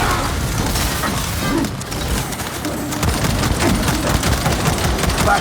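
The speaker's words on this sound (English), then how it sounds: "Throwing shock grenade." Shock grenade blast and gunfire in the video game Space Marine 2, a loud, dense crackle of rapid shots and dull booms that carries on without pause.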